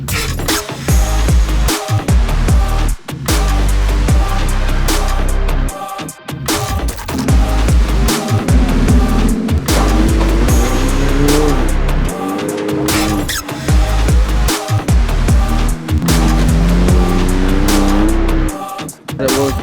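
An off-road vehicle climbing the Cliffhanger trail in Moab, its engine revving hard in repeated loud bursts with brief drops between them and some tire noise, heard close up.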